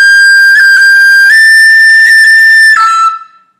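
Close, solo tin whistle slurs a G, ornamented with a roll, up to an A with another roll, then down to E, in a smooth flowing line with quick rolled flicks and no speech.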